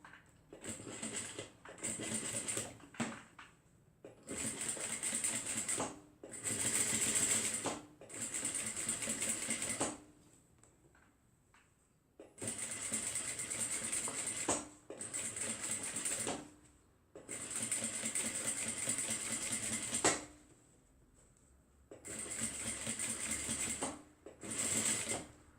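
A sewing machine stitches straight along the top of a fabric bag pocket in several sustained bursts of rapid, loud mechanical chatter, separated by short quiet pauses.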